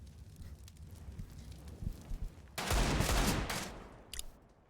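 A molotov fire in Counter-Strike flares up as a loud, sustained roaring crackle partway through, preceded by quieter in-game movement and followed by a brief sharper burst near the end.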